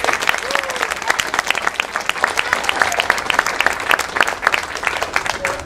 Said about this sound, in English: A round of applause for my